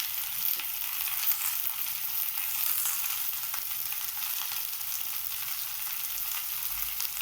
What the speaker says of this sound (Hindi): अब हमें इसमें पत्ता गोभी और प्याज को डाल देना है